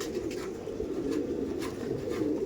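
Madrasi pigeons of the Chennai breed coo steadily in a low, continuous droning chorus, close and fairly loud, with no voices over it.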